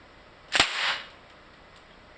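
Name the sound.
fast draw revolver shot fired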